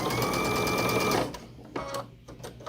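A sewing machine stitching a quilt block runs in a fast, steady whir for about a second, then stops, leaving a few light handling taps and rustles close by.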